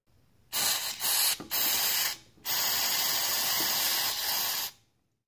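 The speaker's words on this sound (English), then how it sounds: "So just spray as much as you need to." Several hissing bursts from an aerosol can of mass airflow sensor cleaner sprayed on a 2003 Kia Sorento sensor: short sprays at first, then one long continuous spray, close and loud, with no talking.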